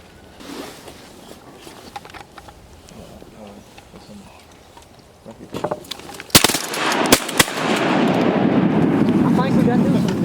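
Shotgun blasts aimed at ducks on a Northeast Arkansas duck hunt: a few loud, sharp reports in quick succession after a quieter stretch with faint voices, followed by a sustained rushing noise.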